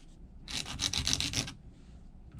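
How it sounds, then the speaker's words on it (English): A nail file rubbing across fingernails in a quick burst of about six close, raspy back-and-forth strokes lasting around a second, alone and without talk. "just make sure you hold up here when you're filing"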